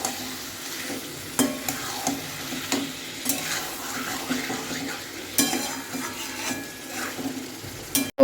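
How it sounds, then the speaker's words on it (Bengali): Mutton being braised in plenty of oil: a spoon scraping and knocking against the pot in irregular strokes over a soft sizzle, close and moderately quiet. "মাটনটা এখানে কষাচ্ছি আর অনেকটা পরিমাণে তেল দিয়ে"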